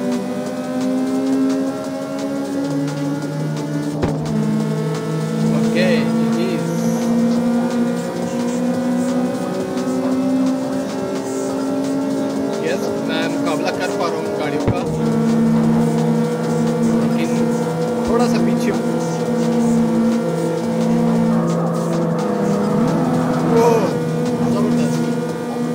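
Street-racing cars in the CarX Street game on an iPhone 13 Pro Max roar continuously, engines revving and shifting through gears with sustained loud tones and occasional tire noise.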